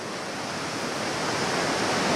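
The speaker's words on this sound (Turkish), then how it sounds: "Derenin taştığı alanlar var yine burada da." Steady roar of rushing water from a flooded creek overflowing its banks during heavy rain in Mersin, loud and constant with no voices.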